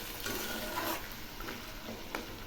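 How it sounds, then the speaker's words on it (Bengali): Fish head curry with burnt garlic paste being stirred in a pan, giving a soft, steady scraping and low sizzle that continues throughout with a few brief louder scrapes. "এখন ঘন ঘন নাড়তে থাকবো।"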